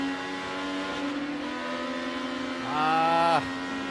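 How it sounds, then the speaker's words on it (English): IndyCar race car heard on board along the back straight out of turn 2, a steady loud engine drone holding pitch before a brief higher rising surge near the end. "So on board with Colton Herta now. This is out of turn 2, down the back straight."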